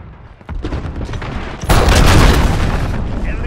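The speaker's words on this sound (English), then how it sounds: "Enemy cruise missile." A cruise missile strike in Call of Duty: Modern Warfare erupts as a loud, sustained explosive roar, following a quieter stretch of scattered game noise and distant gunfire.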